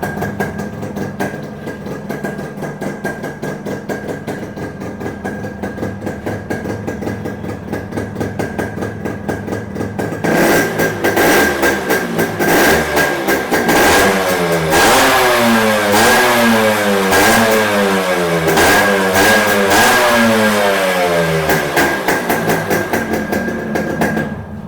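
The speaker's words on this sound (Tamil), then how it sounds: "எக்ஸாஸ்ட் நோட் கேளுங்க." A Yamaha RX100 or RX135 motorcycle engine idles with a steady rumble, then revs repeatedly in rising and falling surges, its loud exhaust note cycling up and down.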